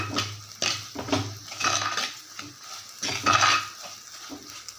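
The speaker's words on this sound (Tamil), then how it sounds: "இப்போ இந்த எண்ணெயில் நல்லா தூளை வதக்கியாச்சு" Spice powder sizzles gently in hot oil for a fenugreek kara kuzhambu while a spoon stirs and scrapes the pan in irregular bursts, close and moderately loud.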